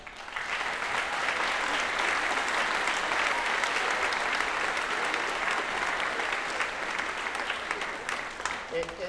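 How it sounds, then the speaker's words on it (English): A school audience at a middle school concert band's winter concert in China Spring claps for recognized students, a full, sustained round of many hands that eases slightly toward the end. "Give them a round of applause."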